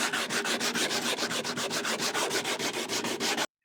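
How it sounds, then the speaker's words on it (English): Hand sanding of an old wooden workbench with 80 grit sandpaper to knock off rough edges and paint: steady, rhythmic back-and-forth rasping strokes, close and fairly loud, with no talking, ending abruptly. "just get some 80 grit, I think it's 80 grit sandpaper, yeah, 80 grit sandpaper. Just give it a little go over"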